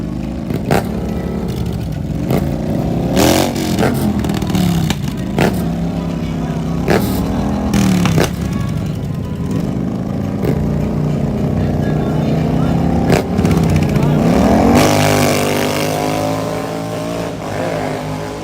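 Drag racing cars accelerating hard down a dragstrip at a hood-track event, loud engine roar and revving throughout with clattering bursts and crowd noise mixed in.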